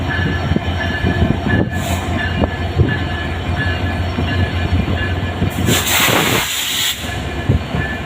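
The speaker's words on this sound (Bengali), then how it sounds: "আবার এখানে আরেকটা ট্রেন" A train passing through Rajbari railway station in Bangladesh, a loud, close rumble of rolling wagons with a hissing burst and wheel squeal near the end, no voices.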